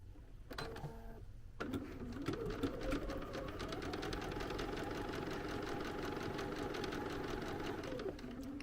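A sewing machine runs in one long, steady stitching burst while quilting oven mitts, fast rhythmic clatter heard close and alone after a brief start.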